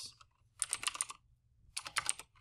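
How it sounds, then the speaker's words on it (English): Close, crisp clicks on a computer keyboard arrive in two quick bursts of typing separated by a short pause, set against a quiet room. "Oh my gosh, my keyboard."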